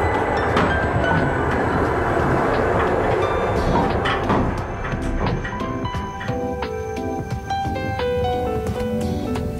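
Passage between the carriages of a Trans-Siberian train at speed: a loud, steady rumble with rattling couplings, rhythmic wheel clicks and occasional metallic squeals, continuous and close with no talk.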